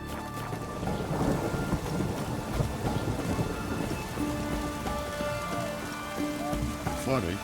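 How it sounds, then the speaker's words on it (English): Rain falls steadily in a thunderstorm in The Witcher 3: Hearts of Stone, with low thunder rumbling beneath the constant patter and a faint tone near the end. "Grow thirsty whenever it rains."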